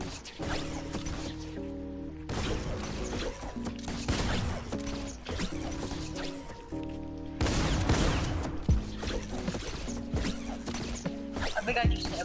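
Tactical shotgun blasts in a Fortnite match, a string of loud, close shots with mechanical pumping and impact clatter over game music, repeating in uneven bursts.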